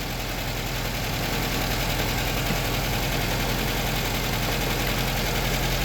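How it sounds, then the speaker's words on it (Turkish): A Lada Samara engine idles steadily, a dense continuous low rumble with even firing pulses, close and loud throughout with no variation. "Evet şu an aracımız çalışıyor."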